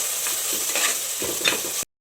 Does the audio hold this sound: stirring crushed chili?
yes